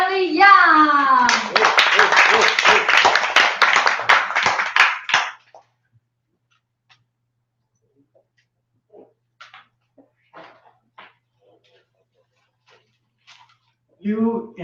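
Applause from an audience welcoming a speaker, a dense burst of clapping for about four seconds that fades out, followed by near silence with faint scattered sounds and a voice beginning at the end.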